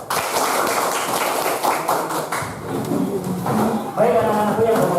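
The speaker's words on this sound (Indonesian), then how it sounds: "Tepuk tangan." A school class claps hands together in a burst of dense, uneven claps with light taps and some children's voices mixed in.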